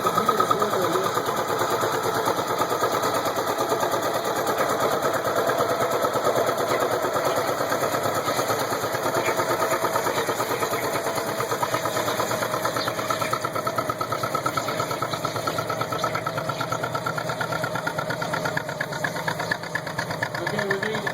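Turbocharged John Deere tractor at a county tractor pull, a steady rumbling engine drone with a rough, knocking edge holding constant throughout, with faint crowd and announcer noise around it.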